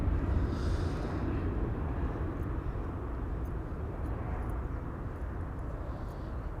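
A departing airliner at Amsterdam Schiphol Airport gives a broad, continuous jet roar that stays fairly steady and loud across the whole stretch, with no talking.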